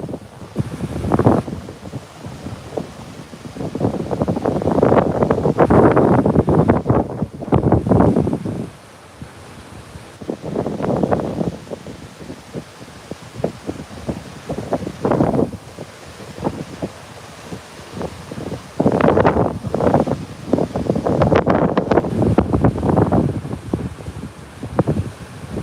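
Strong wind buffeting a microphone on the Gulf of Mexico coast, with loud roaring gusts that surge and ease over a bed of crashing surf, no speech.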